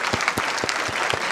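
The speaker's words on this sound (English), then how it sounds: "I want you to have a big applause for all the heroes that I have listed above" Short burst of audience applause after a talk on global warming, dense steady clapping with a few louder individual claps standing out, moderately loud and without voices.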